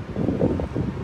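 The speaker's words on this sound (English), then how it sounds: "this is the reason why it's windy right now" Wind gusts against the microphone ahead of an approaching storm at an abandoned condo in Thailand, a brief low rumbling buffet with no voices.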